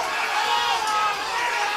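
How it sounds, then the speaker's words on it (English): Crowd noise from spectators at a Donegal club Gaelic football match, Na Dunaibh against Naomh Conaill, a steady broad roar of shouting without clear peaks, sustained and fairly loud throughout. "The crowd are looking for an overcarry."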